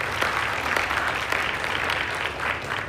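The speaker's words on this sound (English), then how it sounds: "If you guys can give a round of applause to Paul." A room at a Chicago City Council meeting breaks into a round of applause, sustained even clapping from many hands at a steady level throughout.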